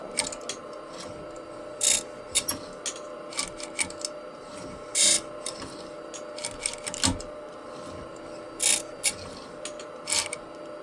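A Ziegelmeyer depth gauge grinder works along a chainsaw chain, giving short bursts of harsh grinding at irregular intervals over a low, steady mechanical hum, close up, with no talk.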